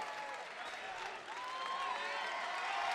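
A college basketball arena crowd roaring and cheering after a score, a sustained dense wash of voices that swells louder toward the end, with an announcer talking over it.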